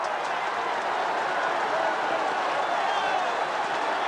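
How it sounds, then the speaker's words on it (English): Crowd roaring at a 1979 Australian football match between Essendon and Hawthorn after a goal, a sustained, even wall of distant cheering and noise without breaks. "Listen to the crowd."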